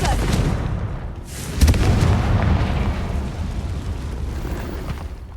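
The Confringo blasting spell explodes in the Hogwarts Legacy video game, a heavy rumbling boom with a sharp burst and a long noisy roll afterward.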